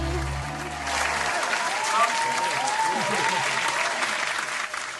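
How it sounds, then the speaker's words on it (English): Audience applause fills a live stage show, a dense sustained clapping that swells after a brief low musical tail and stays loud and steady throughout. "Yo, let's clap it up."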